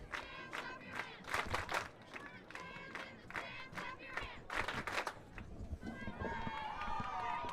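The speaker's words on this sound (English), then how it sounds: "Cheerleaders trying to get the crowd lifted up here." Spectators at a high school football game between Wisconsin Dells and Richland Center cheer and shout as cheerleaders rally them. Bursts of crowd noise and rhythmic claps rise and fall, ending with a swelling, sustained roar.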